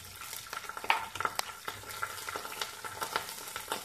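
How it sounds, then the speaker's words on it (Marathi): Garlic, green chillies, curry leaves and asafoetida sautéing in a pan for spring onion pitla, a quiet crackling sizzle with many quick clicks and light scrapes of stirring, heard close and without voices. "लसूण जरा परतला गेला पाहिजे।"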